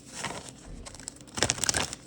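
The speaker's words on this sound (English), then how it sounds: "I just want to shuffle the cards up" A deck of cards is shuffled during a card reading, with soft papery rustling at first and then a louder burst of quick riffling flutters near the end.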